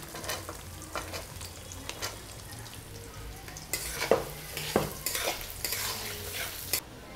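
Raw onion goes into about 50 grams of hot oil already holding black cumin for a steamed fish dish, frying with a soft sizzle while a spoon stirs and scrapes the pan in uneven bursts.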